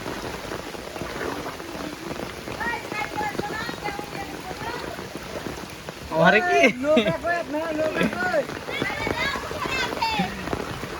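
Heavy rain pours down in a Bangladeshi village, a steady dense hiss of drops on surfaces that swells louder partway through, with people talking over it.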